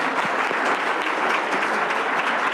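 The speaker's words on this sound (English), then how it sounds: "Give her a round of applause." A room full of people applauds at a school board of education business meeting, with loud, continuous clapping from start to finish and no clear speech.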